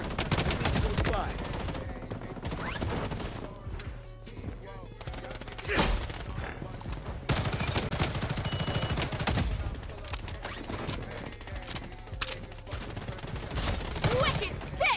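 Dense, rapid gunfire from the online shooter game BloodStrike, with bursts of automatic fire and single shots running throughout, loud and close, mixed with game announcer voice lines and brief talk.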